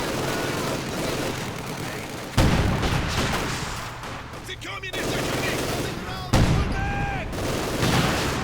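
In a Company of Heroes 2 battle, an MG42 machine gun fires continuous rattling bursts while mortar rounds land with sudden heavy booms. The battle noise is dense and layered, with a commentator's voice woven through it.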